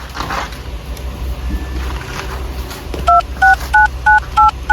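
A phone number is keyed in on a telephone, six evenly spaced loud dialing tones following a stretch of low background hum.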